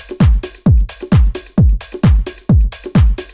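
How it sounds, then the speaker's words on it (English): A bongo sample from the Dimension pack plays a simple looping rhythm in a house track: about seven punchy, resonant hits that fall in short uneven groupings, loud and alone with no voices. "I added this bongo with a bongo sample from our Dimension pack"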